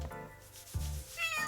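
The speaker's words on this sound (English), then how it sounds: "Oh, another cat." Another cat in the video game Chained Echoes gives a couple of soft, close meows over quiet background music, with a faint rubbing texture between them.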